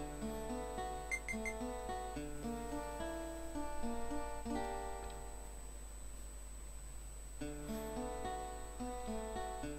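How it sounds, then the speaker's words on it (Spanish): Chocosonar signal in the Final Fantasy VIII video game when no chocobos are nearby, a repeating pattern of electronic beeping tones over a constant hum, looping steadily and at moderate volume. "cuando no hay ningún chocobo por la zona, el chocosonar suena así"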